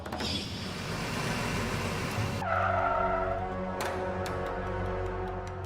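A car brakes hard in a deserted jungle clearing, a brief tire screech over rumbling engine noise before it settles into a low idle, with a few faint clicks afterward.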